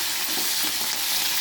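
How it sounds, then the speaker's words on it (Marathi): Green chilies fry in hot oil with garlic for a bhendi (okra) fry, giving a steady, close, continuous sizzle with no talking. "हिरवी मिरची पण छान तळून घ्यायची."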